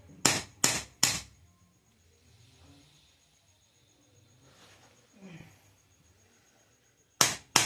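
Metal hammer strikes on a part of a Cameron Pro angle grinder being knocked into place: three quick sharp blows, a quiet stretch with faint rustling, then two more close, loud hits at the end.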